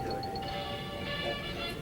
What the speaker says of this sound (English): It's not official until the bells ring.